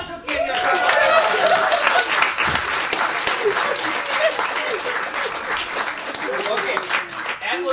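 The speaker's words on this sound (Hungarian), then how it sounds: "szeretnék egy tapsot kérni!" An audience at an improv comedy show claps in a steady burst of applause that fills the room, with a few voices and chuckles mixed in.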